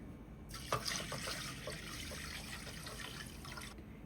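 Tap water runs into a pot of washed mung beans, a steady close splashing stream that starts after a brief pause and stops abruptly near the end, with no talk.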